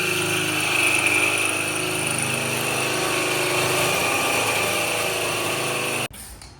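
An angle grinder working steel parts for rock sliders in a fabrication shop runs as a loud, continuous, close whine for about six seconds, then cuts off abruptly into near silence.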